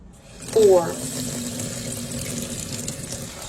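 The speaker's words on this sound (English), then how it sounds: "we already took and put them in the sink, and we're preparing them" Tap water runs into a kitchen sink while collard greens are washed and prepared, a steady rushing flow that surges briefly at the start and continues evenly, close by, with a voice speaking over it.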